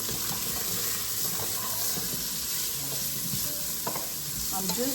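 A loud, steady sizzle of radishes flash frying in a hot pan fills the clip, with occasional stirring scrapes and clinks close up.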